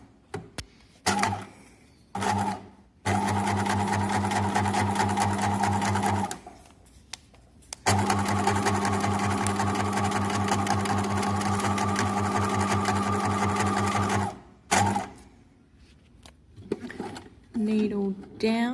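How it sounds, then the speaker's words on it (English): Sewing machine running a straight stitch around an appliqué fabric heart, a steady rapid motor whir in two long runs separated by short pauses and brief stops and starts, fairly close with no talk. "Then I'm going to straight stitch around my love heart."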